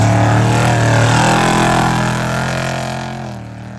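Off-road race vehicles idle and rev at the Vegas to Reno starting line, a loud, steady engine rumble that fades slightly toward the end.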